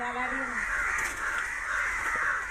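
Crow caught in thread, cawing: several harsh, strained caws close by and fairly loud in an outdoor setting, with a brief voice at the start.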